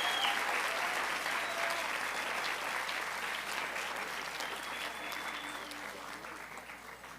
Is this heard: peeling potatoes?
no